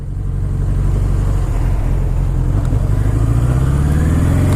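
A 1980 Suzuki GS750 motorcycle engine running steadily close by, a loud, continuous low rumble with a slight rise in revs toward the end.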